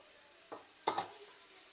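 Crab curry is stirred into puttu in a pan, giving a few short, soft scraping and clinking strokes of a spoon against the pan, quiet and close, with no talking.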